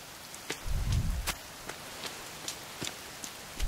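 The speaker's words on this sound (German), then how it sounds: "So viel wie es hier regnet" Rain falls steadily in the survival game The Forest, a soft even patter with scattered louder drops and a brief low rumble, with no talk over it.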